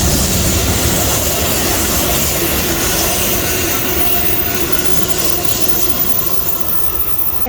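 A train rumbles past close by at the Santa Susana depot in Simi Valley, a steady loud roar with rattling wheels and wind noise that holds throughout without pause.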